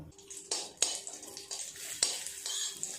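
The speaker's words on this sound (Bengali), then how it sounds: "দিয়ে দেবো অল্প ঘি, কাজু বাদাম আর কিশমিশ অল্প একটু হালকা করে নেড়ে চেড়েই নামিয়ে নেব।" Cashews and raisins stirred in ghee in a pan: a low sizzle with several sharp scrapes and taps of a spoon against the pan, close and fairly quiet.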